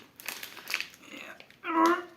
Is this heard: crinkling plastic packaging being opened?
yes